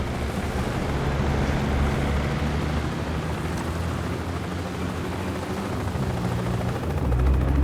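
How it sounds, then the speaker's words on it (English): A helicopter approaches in the 007 First Light video game, a loud, steady rotor roar with wind-like rush that stays even throughout and swells slightly at the end. "Bavma's heli is inbound."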